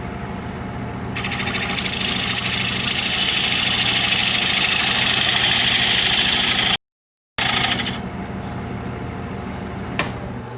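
A wood lathe turns a small sycamore bowl while a half-inch swept-back gouge cuts, giving a steady, loud hiss and rumble that runs for several seconds, breaks off briefly, then resumes as a quieter hum.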